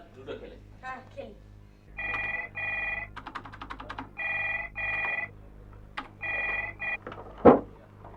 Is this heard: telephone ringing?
yes